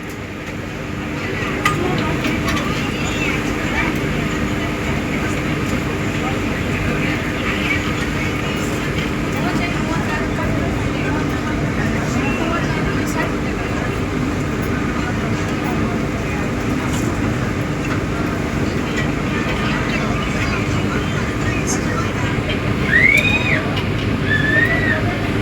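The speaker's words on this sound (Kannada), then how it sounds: "ಸೊ ಗೈಸ್ ಹಾಗೆ ಬರ್ತಿದ್ದಾಗ ನಮ್ಮ ಟ್ರೈನ್ ಹೊರಡ್ತು." From inside an AC chair car, the Chikkamagaluru–Yeshvantpur Express pulls away, a steady loud rumble of wheels and carriage noise with occasional squeals, while people talk nearby.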